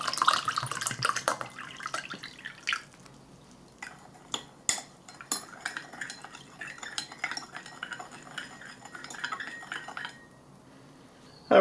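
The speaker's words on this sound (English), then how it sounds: "And about 250ml water." Water, about 250 ml, pours into a lemon lime sports drink powder from a Canadian military IMP ration, with splashing and clinking of cup and utensils over about ten seconds, close and fairly loud, no talking.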